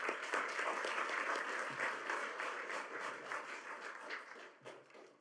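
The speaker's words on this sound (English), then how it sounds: "a round of applause for all of our state champions" Audience applause honouring high school state champions at a school board meeting, a loud, dense burst of many hands clapping that tapers slightly toward the end.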